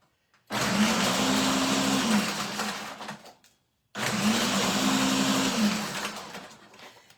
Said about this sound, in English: And I don't know why, this is a new blender.